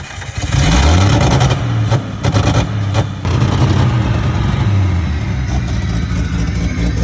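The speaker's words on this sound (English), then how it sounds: "This thing has a wicked two-step." Jeep engine with a sticking throttle body and a gummed-up idle air control valve, running loud and close. The revs surge and sag unevenly, stumbling as the pitch wavers up and down.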